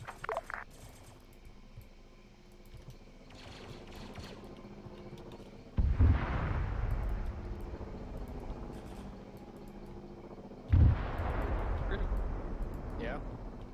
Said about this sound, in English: They definitely were firing at each other.